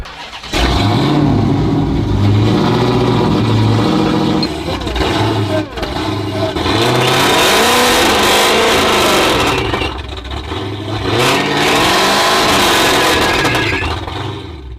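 A Dodge Hellcat's engine fires up and revs hard, a loud, close, continuous roar that swells and dips through several throttle blips over about fifteen seconds.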